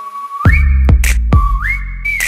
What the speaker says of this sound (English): Make him whistle like a missile.